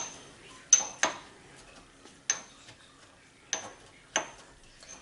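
A mortar and pestle pounding ingredients in a small mortar: sharp, separate hard clinks, about six strikes at an irregular pace, close by and quiet between hits.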